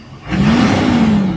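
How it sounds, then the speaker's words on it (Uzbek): A GMC AT4 2500HD pickup with a 6.6 Duramax turbo-diesel V8 revs briefly, a low, steady engine drone swelling up after a quiet start and holding for about a second, heard close with no talk. "Gabarit katta bo'lgani bilan dizelli motor bo'lganligi uchun ovoz past chiqadi."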